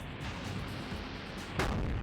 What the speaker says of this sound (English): We're going to hear a big, big, big explosion.